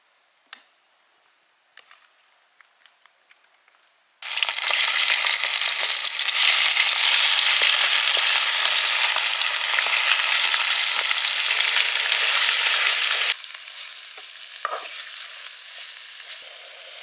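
Green chicken, marinated in herb paste, hits hot oil in a pan outdoors and erupts into a loud, dense, steady sizzle lasting about nine seconds, then drops to a softer continuing fry after a few quiet clicks beforehand.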